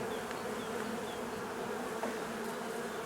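Honey bees swarm and buzz steadily around a nucleus hive holding a mated queen, many drones and frames full of honey. The hum is continuous and close, with no voices.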